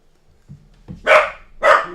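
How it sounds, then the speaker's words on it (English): A dog barks twice in quick succession, loud and close, after a couple of soft low huffs, with nothing else audible. "He hears a noise, he just starts barking."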